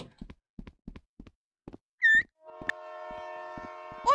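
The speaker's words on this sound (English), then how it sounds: "Oh no, it's a train." A train rolls through in the VR game Rec Room: a few short rumbling bursts and a brief high horn-like tone, then a steady sustained tonal drone with layered harmonics building toward the end, fairly loud and with no talk.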